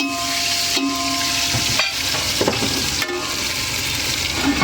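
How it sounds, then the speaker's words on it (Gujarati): Whole spices and masala frying in hot oil for a pomfret fish biryani, a steady close sizzle with occasional stirring scrapes and clinks throughout, no voices. "તેલ થઈ ગયું એમાં આપણે આખો મસાલો બધું નાખીએ"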